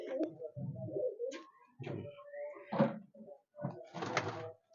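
Pigeons of a racing tournament loft coo in several throaty bursts, close and fairly loud, with brief pauses between calls.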